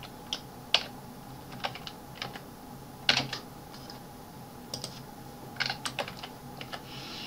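Typing on a computer keyboard while entering matrix values in Mathcad 14: scattered, unhurried key clicks, some sharper and louder, over a faint steady background hum, no talking.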